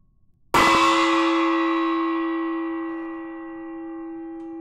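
A single gong struck once with a sharp attack, then a long shimmering ring that slowly fades and holds a steady sustained tone, played loud as a stream sound effect with nobody talking.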